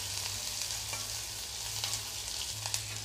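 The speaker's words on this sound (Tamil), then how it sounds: "அதையும் போட்டு நல்லா வதக்கிக்கலாம்." Medium-sized chopped onion sautéing in a pan for fish fry, giving a constant crackling sizzle with occasional soft stirring scrapes close by and no voices.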